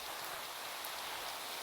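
Steady rainfall in a video game, a continuous soft hiss of rain with no talking.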